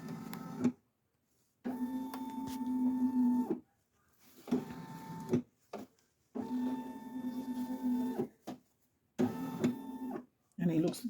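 A Brother SE1900 embroidery machine traces a design for a tote bag in a 5 x 12 hoop, its motor whirring and stitching mechanism buzzing in several close bursts separated by short pauses.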